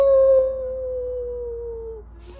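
A single long, steady howl with a clear tonal pitch that sags slightly over about two seconds, loud and close with no talking, from a wolf or a dog.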